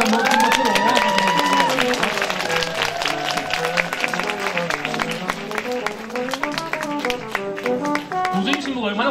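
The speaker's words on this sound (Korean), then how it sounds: "다시 한 번 큰 박수로" A live audience claps steadily at a public broadcast of a priests' talk show in a Catholic parish hall as a parish nun comes on stage; dense, even clapping continues throughout, with voices and background sound over it.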